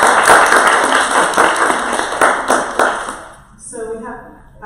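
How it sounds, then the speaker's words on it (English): Brisk applause from an open mic crowd rises for a few seconds, then fades out as a voice begins speaking. "We can do one more round of applause for Nat."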